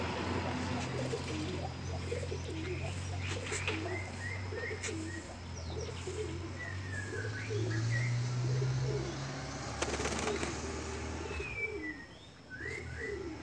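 A domestic pigeon, kept in a cage for pairing, gives soft, low cooing calls again and again. Light chirps and faint background noise surround them, and no one speaks.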